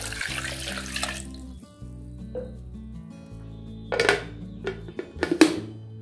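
About half a liter of water splashes into a blender jar holding sweet lime pieces. A short rushing pour is followed by quiet pauses and a few light clinks and knocks against the jar, close by.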